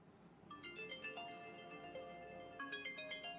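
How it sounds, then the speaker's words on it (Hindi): A phone ringtone plays a bright melodic tune of stepped tones, one phrase followed by a brief dip and then a repeat, fairly soft and alone with no voices. "बॉस, आपका फोन बज रहा है।"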